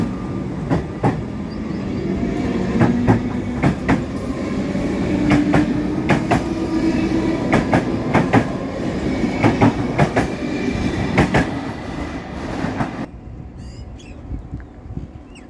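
A train passes through Newmarket station with a steady rumble and a rhythmic clickety-clack of wheels over rail joints, loud and close for most of the passage, then fading abruptly as birds chirp faintly.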